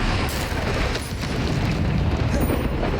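Bombarda blasting spells explode in Hogwarts Legacy, a heavy rumbling boom that fills several seconds with deep, sustained, loud impact noise.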